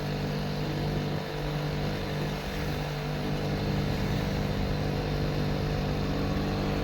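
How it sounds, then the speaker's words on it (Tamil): A TVS 50 moped engine labours steadily uphill on a hairpin-bend road, a continuous close, loud drone with a rough low rumble and no talk. "வண்டி இந்த இடத்துல திணறுதுங்க, ரொம்பவே திணறுது"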